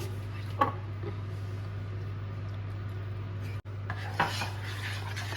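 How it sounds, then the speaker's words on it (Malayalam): Coconut second milk being mixed in a pot for Pesaha appam preparation, with two brief utensil knocks against the pot over a steady low hum, otherwise quiet. "രണ്ടാം പാല് ഒഴിച്ചിട്ട് നമുക്കിതൊന്ന് മിക്സ് ചെയ്തെടുക്കാം"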